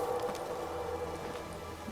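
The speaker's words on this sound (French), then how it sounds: "Il pleut, voilà, direct. Il va pas pleuvoir, il pleut." Rain falls in The Witcher 3 as a steady, dense hiss of drops, moderately loud and continuous with no voices over it.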